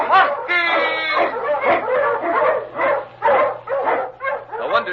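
Eskimo husky sled dogs, including a lead dog, bark and yip in rapid, loud, overlapping bursts close by, with a whine at the start and a low steady hum beneath.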